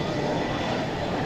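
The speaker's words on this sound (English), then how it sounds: "this American Airlines Airbus A321neo coming in from Los Angeles" An American Airlines Airbus A321neo jet comes in to land at DFW Airport, a steady broadband engine roar filling the short stretch at night.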